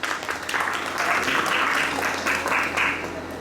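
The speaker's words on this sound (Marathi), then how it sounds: "त्यांच्या मेहनतीला पुन्हा एकदा जोरदार टाळ्या होऊन जाऊ द्या" An audience claps after a students' rhythmic musical performance at a stage event, a steady wash of applause holding at even strength for several seconds with no one speaking.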